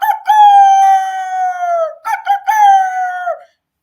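A bird squawking sound effect, two loud drawn-out crowing calls like a rooster, each holding a long harmonic tone before sliding down, close and sharp with a short pause between them.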